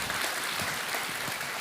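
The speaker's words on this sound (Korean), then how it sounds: "우리 하나님께 감사와 영광의 박수 올려드리겠습니다." A church congregation applauding during a Sunday service, a steady wash of many hands clapping at moderate volume, slightly distant and even throughout.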